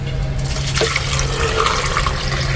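Water being poured into a cooking pot for dal, 1.5 litres going in as a steady, continuous near splashing pour throughout, with no talk.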